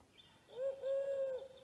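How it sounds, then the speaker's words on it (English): A wood pigeon calls in a single soft, hooting coo phrase of about a second, with a brief break partway through, fairly close and clear over a quiet background. "A wood pigeon."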